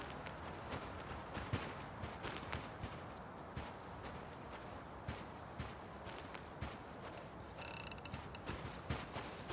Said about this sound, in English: I then added footstep sounds for the player and the AI.